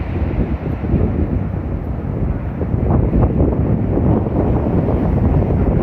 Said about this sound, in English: it's pretty noisy out here with the waves today.